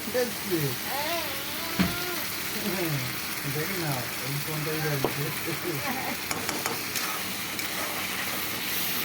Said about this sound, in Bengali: মশলাটা ঢেলে দিলাম, ভালো করে এটা কষিয়ে নেব